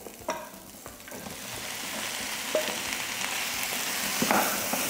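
Boiled pork ribs sautéing with onions in a pan for kaldereta give a steady, close sizzle with a few light utensil taps scattered through it, and no voices.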